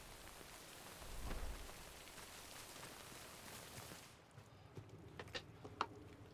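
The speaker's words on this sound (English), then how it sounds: "Wait out the rain over there." Steady rain patters faintly and evenly in the video game Death Stranding, easing slightly partway through while scattered drips and light taps come through more clearly.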